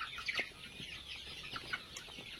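Chickens on a poultry farm housing about five thousand birds, clucking in a dense overlapping chorus with several louder nearby calls standing out from the steady flock noise.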